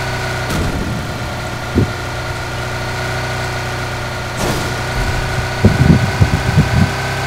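A car engine in the video game PUBG Lite idles with a steady mid-low hum, broken by a few brief clunks and a burst of rough rumbling near the end; nobody talks.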